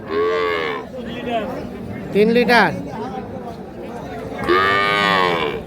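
A cow moos loudly twice at a cattle market, long drawn-out calls at the start and end, with people talking nearby in between.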